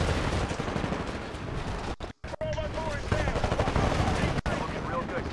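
Sustained automatic gunfire in the Titanfall shooter, loud rattling bursts running almost without pause, with a few short breaks and other battle noise mixed in.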